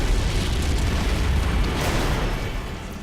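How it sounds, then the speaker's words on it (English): A deep, sustained explosion roar from an Unreal Engine 4 volume-texture effect rumbles loudly and steadily, then tapers slightly at the end. "we had to create this explosion with a new technique called volume texture"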